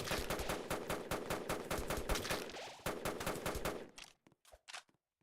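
A weapon in a video game fires rapid bursts of close gunfire, loud and rhythmic, then tapers off into a few scattered single shots.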